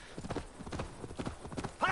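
Horse hooves clip-clop in a steady rhythm in Assassin's Creed Valhalla, close and moderately loud, with a brief whinny-like burst at the end and faint background voice.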